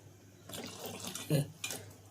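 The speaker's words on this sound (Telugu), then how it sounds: "కొంచెం నీళ్ళు వేద్దాం." A brief splash and gurgle of water being poured, lasting about a second, with a couple of faint clinks around it.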